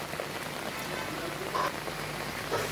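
Steady rain pattering on an open terrace scattered with empty flower pots and soil, a dense, even hiss of drops with a few closer splashes standing out, no voices.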